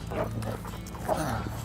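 A protection-trained dog, a Gryphon, barks and grips during bite training, giving short, sharp vocal bursts close to the microphone, while a handler talks over the action.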